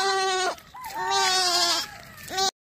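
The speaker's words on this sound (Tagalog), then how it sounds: "Daming kambing." Goats on a rural farm let out several loud, close bleats, a wavering nasal cry followed by a longer drawn-out call and a short final bleat.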